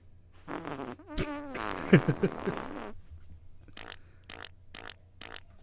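Fart during a casual podcast recording, a short raspy burst partly overlapped by laughter and voices, followed by faint rhythmic rustling.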